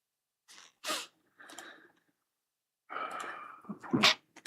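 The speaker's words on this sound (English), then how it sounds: "Wow, surprise sneeze." A person sneezes once near the mic during a live stream, with soft sniffs and breaths beforehand, a quiet gap, then a loud burst and a snort-like exhale.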